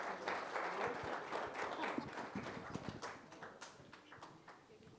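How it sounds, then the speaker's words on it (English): Applause from an audience at a corporate cloud-technology event in Bangalore as people are welcomed on stage: dense, fairly quiet clapping that peaks early and gradually thins out, with some talking underneath. "Let's hear some applause, ladies and gentlemen, please."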